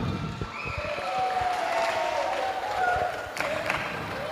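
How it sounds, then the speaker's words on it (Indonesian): Audience applause at a nighttime gathering at an Islamic boarding school in Indonesia, steady moderate clapping from a crowd with a faint whistle or tone running through it. "Tepuk tangan."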